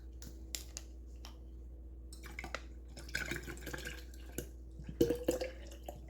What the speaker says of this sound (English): I just got 2 bottles of water that I'm going to add into that.